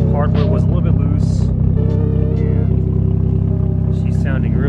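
A Toyota Mark II JZX100 idles with a refitted Tomy exhaust, giving a loud, steady, deep burbling drone throughout, while a person talks over it.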